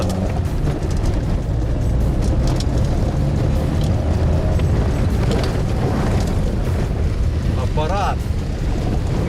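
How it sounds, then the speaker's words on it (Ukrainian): Loud, steady rumbling engine drone from a cold Mercedes E190 idling, with heavy low-end noise and wind-like buffeting, continuous for the whole stretch. "Мерседес працює. Працює неплохо взагалі і на холостих."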